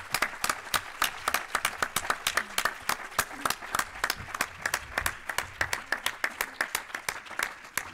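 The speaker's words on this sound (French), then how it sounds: "Et un grand applaudissement pour les Dominies" Audience applause at the closing of a summer session, a fairly small group clapping in a quick, even rhythm of distinct claps, steady and moderately close from start to finish.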